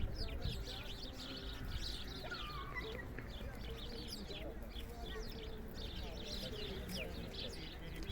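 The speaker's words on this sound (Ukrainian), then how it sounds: "Тут і горобці сніг збивають." Sparrows chirp in snowy branches during a winter walk, with faint, scattered tweets over steady outdoor background noise.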